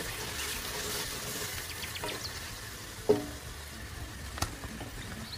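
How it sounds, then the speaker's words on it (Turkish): Tomato paste sizzles and fries gently in a pan as it is sautéed and stirred, a soft steady crackle with a couple of brief spoon knocks against the pan. "Şöyle bir kavuruyorum,"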